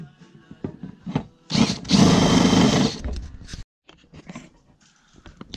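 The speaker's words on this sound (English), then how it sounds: "And then drill in through the roof" A power drill whines steadily for about a second and a half, grinding through an Airstream trailer roof, with scattered knocks and handling noises before and after.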